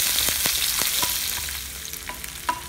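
Curry leaves and chopped shallots sautéing in a pan, a loud, close crackling sizzle with repeated spatula strokes and scrapes at an uneven rhythm.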